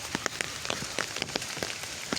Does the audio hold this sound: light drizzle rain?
yes